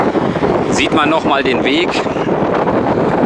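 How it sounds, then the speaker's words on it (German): Strong, warm wind buffets the microphone in a steady, loud roar on a bike ride near a ferry route at Fehmarn on the Baltic coast, with someone speaking over it throughout. "Ich hoffe, ihr könnt mich überhaupt noch verstehen bei dem ganzen Wind. Ist schon mächtig laut."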